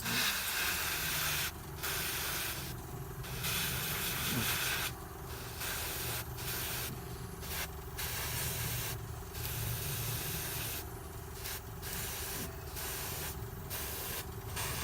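An airbrush sprays base-colour paint onto a Blood Angel Librarian miniature in short, sharp bursts, each a steady close hiss separated by brief pauses, over a constant low compressor hum.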